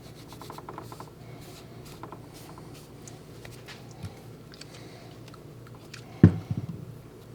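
Light scratchy rubbing while sanding a homemade bowling fingertip insert, soft and close with irregular strokes, ending in a brief louder knock and scuff.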